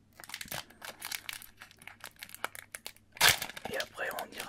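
A wrestling trading card booster pack is torn open and its foil crinkled close to the microphone: repeated sharp crackles and a loud rip, quiet and intimate, with a soft whisper-like voice at times.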